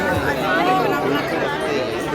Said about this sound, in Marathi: केवढी गर्दी आहे